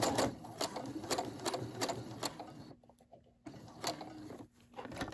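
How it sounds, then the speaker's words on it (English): A Brother SE600 sewing machine stitches fabric in a steady, close, rapid mechanical run of needle strikes. It briefly pauses twice before resuming, and no voice is heard. "and then sew it again."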